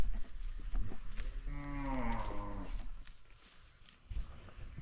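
A water buffalo (carabao) calls once with a long, deep, moaning low at mid-distance, rising and fading over a couple of seconds amid outdoor farm background noise.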